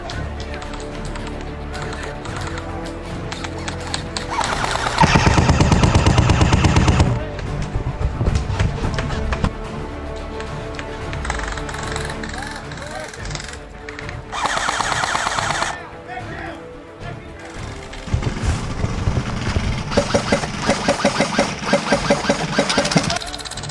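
Bursts of rapid video game gunfire rise loudly around the middle and again near the end, with engine-like rumble underneath and players talking over the action throughout.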